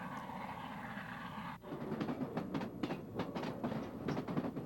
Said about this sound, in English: some of these are pulling passenger trains.